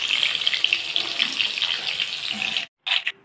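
Fish fries in hot oil in a home kitchen with a loud, continuous crackling sizzle that cuts off abruptly, then returns in a short burst.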